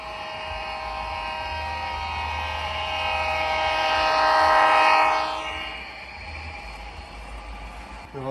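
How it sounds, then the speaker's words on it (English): A train passes with a long, loud horn blast that swells and then fades, over a steady rumble of the rail cars. "And here we got a train coming."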